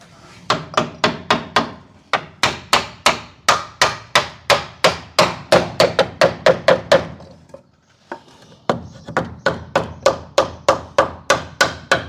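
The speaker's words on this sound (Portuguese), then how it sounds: "Posso até usar um sarrafo para poder bater, para facilitar dela entrar." A wooden closing piece in carpentry finishing work is knocked into place with a batten, giving many sharp close wooden thuds in quick regular runs, a brief pause, then another burst of knocks.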